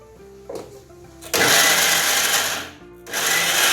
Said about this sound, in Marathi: आता हे मिक्सरवरती फिरून घेतो हे सगळं